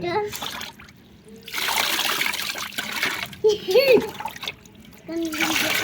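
A pet parrot bathing in a bowl of water, with intermittent splashing and trickling in bursts, interrupted by close chirps and squawks, while people talk nearby.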